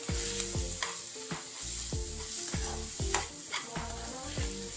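Aloo masala being stirred in a hot pan for red chilli dosa, with steady sizzling frying and repeated rhythmic scrapes of the spoon against the pan, close and continuous.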